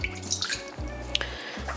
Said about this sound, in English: but first I'll add a bit of water.